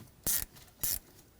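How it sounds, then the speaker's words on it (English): A 6mm socket wrench ratchets twice on a hose worm clamp on the cooling system of a 2007-2013 BMW X5 with the 3.0L inline-six, two short close clicking bursts with a pause between. "using a 6mm socket, and loosen up the worm clamp right here for the hose"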